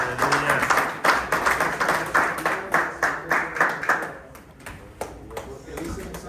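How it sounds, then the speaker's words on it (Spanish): Church congregation applauding during a sermon, rhythmic group clapping in a steady beat for about four seconds, fairly close and loud, then tapering off into softer room sound. "aplauso al Señor."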